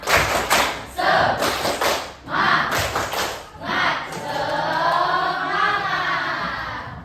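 Students in a class clap in a rhythmic spirit pattern, loud grouped claps and thumps in short bursts, then a drawn-out crowd cheer.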